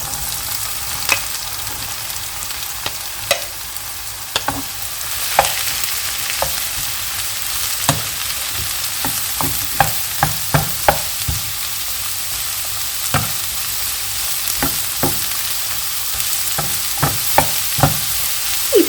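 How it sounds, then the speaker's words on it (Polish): Mushrooms and onion sauté in a pan with a steady, bright sizzle, close and even, punctuated by scattered sharp pops and occasional stirring clicks, with no talk. "Co jakiś czas możecie przemieszać pieczarki z cebulą."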